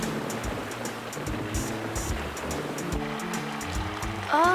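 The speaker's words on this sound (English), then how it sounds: "Oh, then the water goes down that long chute, right?" Water runs down the chute of a rock wash with a continuous rushing, churning wash. Machinery rumble and repeated clanks sit underneath, and a brief whine comes in at the end.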